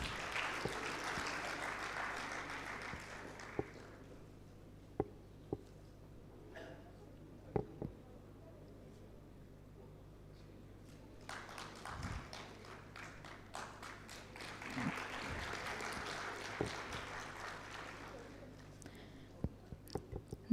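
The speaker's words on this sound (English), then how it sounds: "Can we have a huge round of applause, please?" Faint, distant applause from the audience at a law conclave ceremony rises in two separate stretches, with scattered taps and thumps in the quiet between them.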